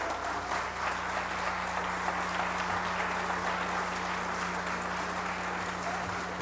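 Sustained applause from an audience in a state legislative session chamber, a steady dense wash of clapping throughout with a low constant hum underneath.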